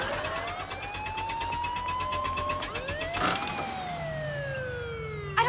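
A police car siren wails with rising and falling tones over traffic noise and a low engine rumble, loud and steady throughout, with a horn-like blast near the end.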